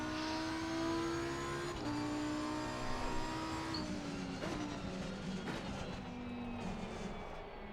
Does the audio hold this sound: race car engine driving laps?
yes